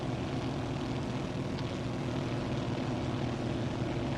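Steady droning hum of a Grumman Goose's twin radial propeller engines in Microsoft Flight Simulator, flying low with flaps set while delivering supplies and mail in Alaska; a continuous, even engine tone fills the whole stretch without talk.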